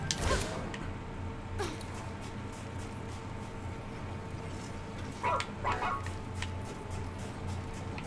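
A dog in the action game ReCore lets out a short bark near the start and a couple more a few seconds later, over a steady humming game background with no speech.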